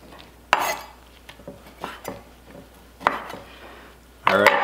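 A knife cuts slices of dry-brined, reverse-seared steak on a hard surface. Several separate sharp clacks and scrapes of blade and utensil come close by, with a louder clattering stretch at the end and no talking.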